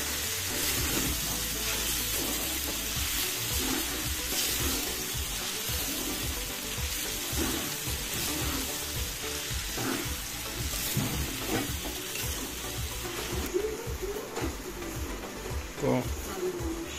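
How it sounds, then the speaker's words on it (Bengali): Sabudana khichdi sizzles in a pan while being stirred, a steady frying hiss with repeated scraping strokes, and a voice talking intermittently over it. "নেড়ে নিচ্ছি ভালো করে।"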